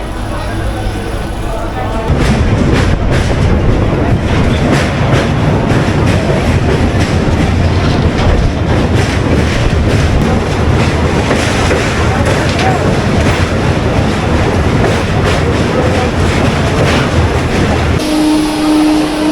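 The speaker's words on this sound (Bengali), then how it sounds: "সাঁতরাগাছি স্টেশন থেকে মেছেদা লোকাল ছেড়ে দিল" A Mecheda local train pulling out of Santragachi station, with a loud, close, continuous rumble and rhythmic rail clatter that holds steady throughout.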